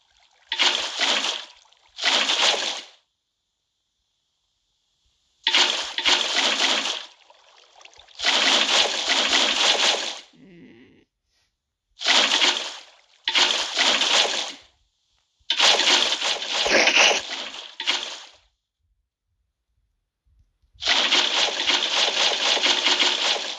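Water sloshes and splashes in a pool inside a house-building video game, coming in repeated bursts of one to two seconds separated by silent gaps, fairly close and even in loudness.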